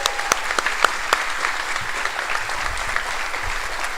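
An audience at a school band concert claps for the band's student leaders, a full, steady round of applause with a few sharp nearby claps standing out at the start.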